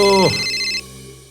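A short electronic phone ring with bright repeating tones that sweeps and cuts off after about a second, leaving a low steady hum.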